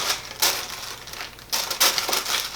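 Wrapping paper packed inside an Alexander McQueen sneaker box is crinkled and crushed at close range, with two louder bursts of rustling and a steady crackle between them; no one speaks.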